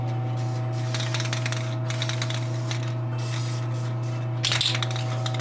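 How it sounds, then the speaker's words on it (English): An aerosol can of Testors Dull Coat sealer sprays in several short hissing bursts, with a louder, closer blast near the end, all over a steady background hum. "So tester's dull coat on this,"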